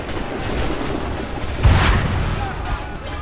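A deep boom from a cannon in Assassin's Creed III around the midpoint, standing out over continuous low rumble and background noise, with voices underneath.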